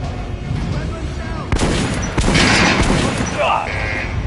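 Gunfire at a training dummy on a firing range in Metro Last Light: a couple of sharp shots ring out amid steady game ambience and mechanical noise, loud and close.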